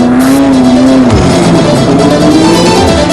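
A stock race car roars past on the 1986 Queen City Speedway track, its loud engine sweeping in pitch, with tires squealing and a continuous wash of racing noise.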